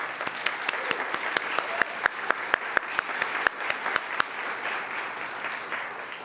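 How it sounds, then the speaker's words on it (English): Audience applause at a university award ceremony, a moderate round of clapping from a crowd in a hall with distinct sharp individual claps standing out, fading slightly toward the end. "hours of coordination led by Deb and Vania, so let's give them a round of applause."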